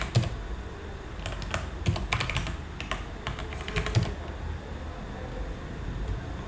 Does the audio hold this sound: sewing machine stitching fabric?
no